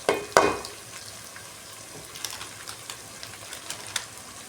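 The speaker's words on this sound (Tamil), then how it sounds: "எல்லாம் போட்டு ஒரு வதக்கிக்கலாம். அந்த எண்ணெயிலேயே வதக்கிக்கலாம்." Turmeric, red chilli powder and chicken masala powder sizzle in hot oil as a chicken gravy base, with a loud stir and clatter at the start and then a steady low frying crackle with scattered pops, close up and without talk.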